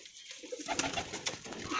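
Fancy pigeons coo close by, soft repeated throaty calls over a steady low background, with no voices.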